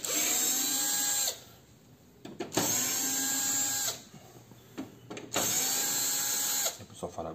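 Electric screwdriver with torque control whirs in three separate bursts as it backs screws out of a device, each burst lasting about a second and a half, with quiet handling noises between.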